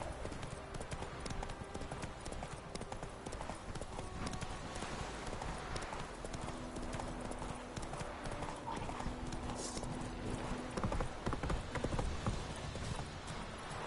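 Roach, the horse in The Witcher 3, gallops in a steady, rapid clip-clop of hooves that stays continuous and fairly loud, over dense game ambience with a few faint background voices.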